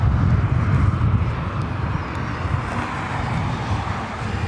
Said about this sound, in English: taking off here on the north side, 24 right. Very heavy 737-700.